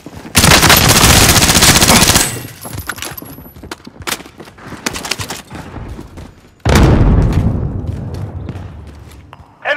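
Loud automatic gunfire in a first-person shooter game, with a long sustained burst at the start, scattered single shots and thuds through the middle, then another heavy sustained burst near the end.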